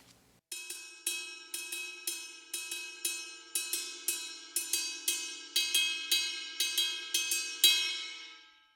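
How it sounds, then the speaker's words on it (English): A steady run of bright metallic ride cymbal strikes, each ringing briefly before the next, in a repeating swung triplet pattern with no voices; from a song. "The second part is the ride cymbal pattern"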